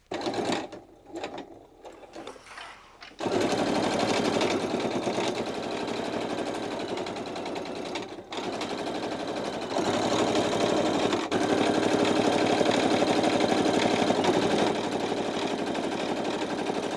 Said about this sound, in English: Come back onto the pants leg, come in 1/2 inch, and I'm going to sew it all the way down